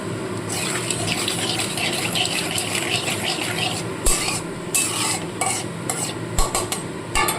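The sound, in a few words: black cumin seeds sizzling in hot oil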